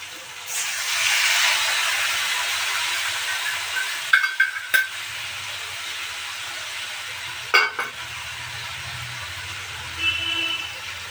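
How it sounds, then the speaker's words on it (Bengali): Young jackfruit and potatoes frying in a pan give a continuous close sizzling hiss, broken by a few sharp clicks and scrapes of stirring. "এঁচোড় আলুটা দিয়ে ভালো করে ভেজে নিতে হবে।"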